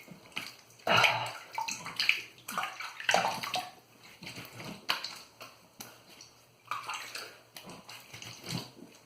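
Tap water splashes and runs in uneven bursts at close range as the face is rinsed after a wet shave, with brief pauses between the rinses.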